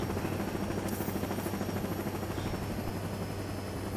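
In the Saints Row reboot from 2022, a helicopter's continuous rotor drone and engine rumble hold steady and close throughout, with a faint brief high chirp partway through and no voices.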